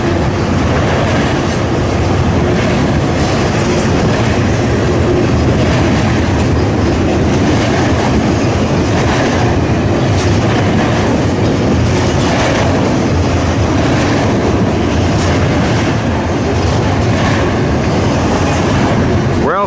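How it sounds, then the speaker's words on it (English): An eastbound Norfolk Southern double-stack freight train rolls past in Elkhart, Indiana, a loud steady rumble with rhythmic clickety-clack of wheels on rail joints and occasional faint squeal, continuous and close for the whole stretch. "which is an eastbound stack train."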